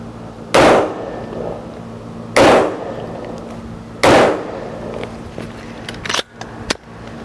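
Three loud, sharp M16 rifle shots fired one by one at a test target outdoors, spaced about two seconds apart, followed by a few fainter clicks and knocks.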